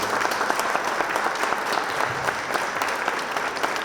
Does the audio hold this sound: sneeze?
no